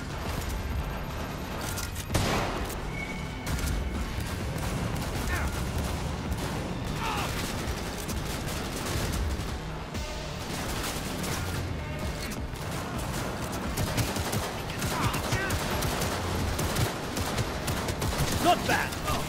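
Sustained game gunfire from Cyberpunk, a dense loud stream of shots and crashes running throughout, with voices calling out over the combat.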